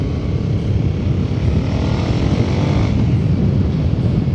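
Triumph America cruiser motorcycle with a booster plug fitted, engine pulling steadily under acceleration on the road, a loud continuous low throbbing drone with wind rush throughout, no talk.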